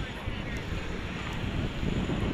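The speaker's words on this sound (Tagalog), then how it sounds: "Ang sarap ng hangin, no? Mahangin." Strong outdoor wind near the Baclaran and Quiapo churches on a drizzly day, buffeting the microphone as a loud, steady rumble and roar with no clear pauses.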